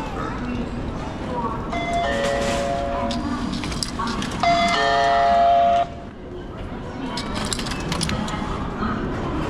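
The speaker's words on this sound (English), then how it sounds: "Hopefully I got on the right train." Train in Japan near a station, with rumbling rail noise, bright electronic chimes or signal tones, and a sustained whistle-like tone midway, while people talk in the background.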